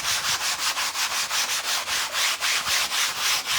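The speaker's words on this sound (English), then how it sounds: "I'm just going to use my sanding block from Dollar Tree." Dollar-store sanding block rubbed back and forth over a canvas in steady, rhythmic strokes, a close, gritty scraping hiss repeating about four times per second with no talking.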